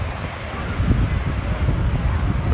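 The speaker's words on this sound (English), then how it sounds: "with the wind blowing" Wind gusting across a sand beach in Lima, Peru, a loud, rough rumble buffeting the microphone without a break.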